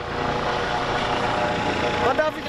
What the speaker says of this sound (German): man sieht den Heli, wie er auf dich zukommt. Dann geht die Winde runter